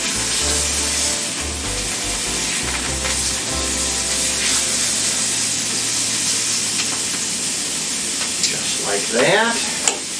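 Pork chops sizzle and fry in a hot pan as they are turned over, a steady hiss running throughout with low rumbling under it and brief clatter near the end, while a person talks briefly.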